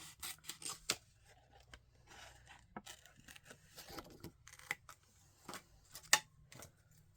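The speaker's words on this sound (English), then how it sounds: "I'm just going to cut that right off of there." Scissors snip through paper during a papercraft project, a series of short crisp cuts and rustles close by, irregular in rhythm and fairly quiet, with no talking.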